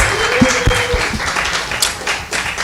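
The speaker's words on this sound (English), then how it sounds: "Let's also give another round of applause for Alfonso and Amara, please, yes." Steady applause from an audience at a community forum, many hands clapping continuously with a few louder claps near the start.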